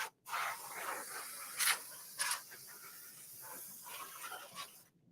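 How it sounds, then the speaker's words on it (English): Canned compressed air sprays in several sharp hissing bursts, blowing toner out of an OKI 8432 white toner DTF printer, close and fairly loud, with short gaps between the blasts. "just get it with the canned air"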